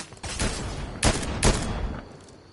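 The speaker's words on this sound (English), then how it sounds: "I'm finna snipe him." Loud gunfire in the Fortnite video game: a sharp shot at the start, then two heavy sniper-rifle cracks about half a second apart near the middle, each leaving a trailing echo, with no talk over them.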